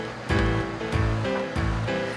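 Water surges out of a barge hull in three loud rushing bursts as a heavy transport trailer carrying a huge transformer rolls off the barge.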